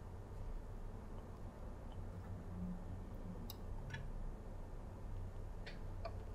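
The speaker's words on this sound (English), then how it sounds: "But at least the motor is spinning" A vintage Sony PS 3700 turntable with its motor spinning gives a steady low hum, with a few faint light ticks over it and no voices.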